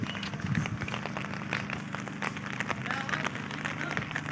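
Steady rain falls over a mountain village wrapped in mist and fog, a continuous close patter of drops with scattered sharper hits, joined by a faint low hum throughout.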